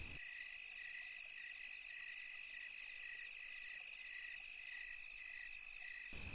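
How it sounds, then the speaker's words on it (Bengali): A steady, shrill trill of crickets at night continues without pause, a dense even chorus with nothing else heard. "ঝিঝি পোকাদের ডাক"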